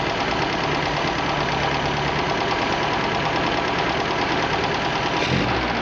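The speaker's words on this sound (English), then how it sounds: "Between every adjustment, you rev it up and blow it out." MG engine with HIF carburetors running steadily and loudly after a mixture adjustment, a continuous close rumble with a slight shift near the end.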